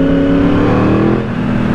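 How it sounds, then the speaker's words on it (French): A Yamaha R1 sport motorcycle engine revs hard and loud, close up, with a dense, continuous roar that dips briefly before picking up again. "Le moteur, tellement il a envie d'y aller, il vibre."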